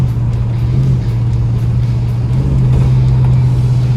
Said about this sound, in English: Still got plenty of torque in third gear too.